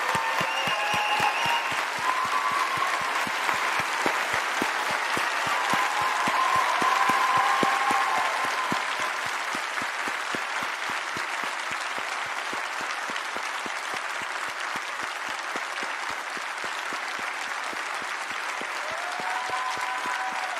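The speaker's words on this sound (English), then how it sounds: "I would ask everybody to cheer these people." A large crowd at a memorial service for a young girl claps steadily for a long stretch. Dense, sustained applause swells and then holds at an even level, with a few faint voices and occasional cheers mixed in.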